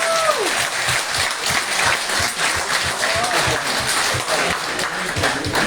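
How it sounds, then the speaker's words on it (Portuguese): Sustained applause from an audience gathered at a Mozambican diaspora meeting in Germany, steady and dense throughout, with a couple of brief voice tones rising above the clapping. "Uma salva de palmas."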